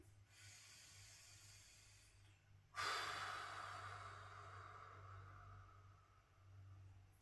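A single slow, audible breath taken during a spinal exercise, a soft airy inhale-exhale hiss that swells suddenly and fades over several seconds, faint over a low steady hum.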